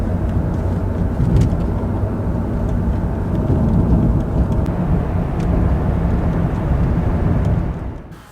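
Jaguar XJ8 (X308) on a test drive after its fault codes were cleared, with a steady broadband road and engine roar close by that fades out near the end.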